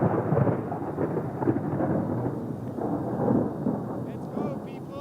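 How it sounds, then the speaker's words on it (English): Deep rolling thunder from a lightning storm while overlanding near granite outcrops around Sibebe, a continuous low rumble over several seconds with voices talking faintly on top. "there's a lot of lightning happening around us"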